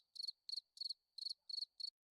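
Crickets chirp in six short, evenly spaced bursts of rapid trilling, clear and fairly close against a quiet background, with no voices.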